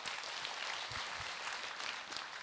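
Scattered applause from an audience at a Buddhist monk's question-and-answer dharma talk, moderately faint and fairly even across the short stretch.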